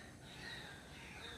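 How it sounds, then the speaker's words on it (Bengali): Crows cawing by a canal under a heavily overcast sky after light rain, a steady layered chorus of harsh calls, moderately distant and fairly quiet, with no talking. "আর ডাক পাখিগুলো ডাকছে"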